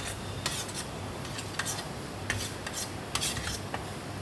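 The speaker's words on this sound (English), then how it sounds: "mix it around just to get all the flavors together" Masala dosa being mixed with sambar on a plate, heard as close, irregular soft scraping and rubbing strokes with a few sharper scrapes, no talking.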